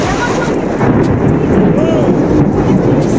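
Thunder rumbles low and heavy during a storm in Boston, a deep continuous roll close by, mixed with wind noise on the microphone and a voice speaking briefly.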